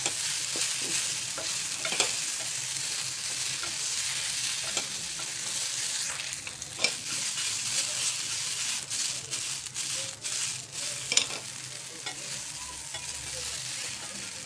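A quick school tiffin snack frying in a pan, giving a continuous bright sizzle with intermittent scraping stirs and a few sharp metallic clinks, close and steady, with no talking.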